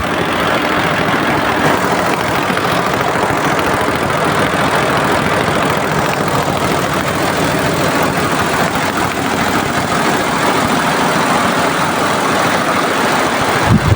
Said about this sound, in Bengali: খুবই সুন্দর একটি কাজ চলতেছে এই মেশিনে, এমব্রয়ডারির মেশিনে